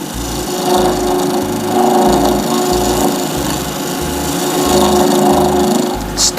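A lathe turns a cast resin shaving brush handle, giving a loud, steady motor whine with a rhythmic low pulsing thump and scraping cutting noise throughout, near and continuous, with no speech.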